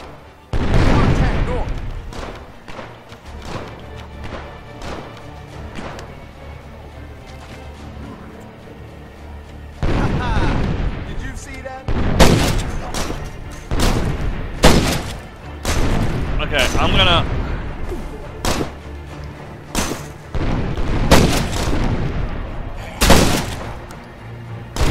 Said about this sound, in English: Okay, so mines are working.